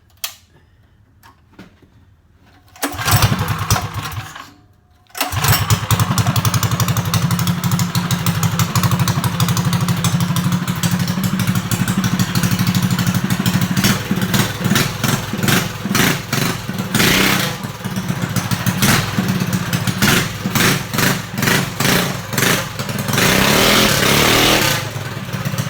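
A Predator 212 non-hemi small engine on a live-axle machine, with the governor removed, starts after a short cranking burst and runs continuously at loud, buzzy high revs with rattling and clatter, close up and with no talking.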